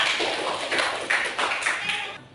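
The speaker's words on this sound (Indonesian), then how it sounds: "tepuk tangan dulu buat Nadif" A classroom of students claps for a classmate, a short burst of applause in uneven bunches that fades out near the end.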